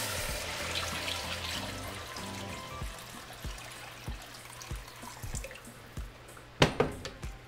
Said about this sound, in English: We're going to cover our meat with water.